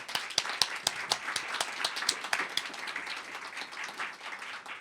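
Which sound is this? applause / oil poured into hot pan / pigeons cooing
applause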